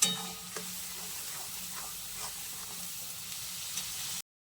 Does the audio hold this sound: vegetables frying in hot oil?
yes